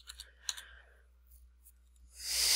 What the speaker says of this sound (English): I can't even type program.